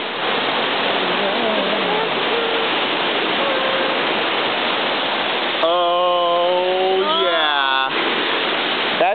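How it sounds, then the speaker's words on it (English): A waterfall roars as a constant loud broadband rush, heard up close while people stand right beside it; a voice speaks over the steady water noise partway through. "That's right, it's a waterfall."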